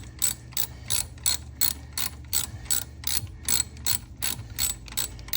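A ratchet clicks in rapid, evenly spaced bursts while spark plugs are tightened on a Porsche Macan S, crisp and close with no talking.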